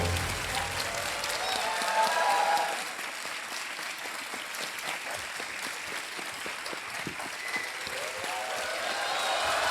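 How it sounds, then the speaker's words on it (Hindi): A studio audience on the quiz show Kaun Banega Crorepati applauding a winning contestant, sustained clapping that eases after a few seconds, then keeps going as many scattered, distinct claps. "तालियां बजती रहें इनके लिए"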